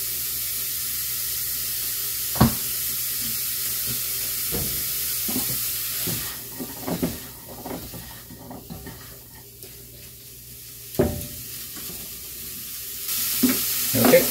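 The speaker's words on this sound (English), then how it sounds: "so butter's coming up to a boil" Butter heating in a pan over a little more than medium-high heat, a steady low sizzle and hiss with scattered clinks and stirring knocks, fairly close.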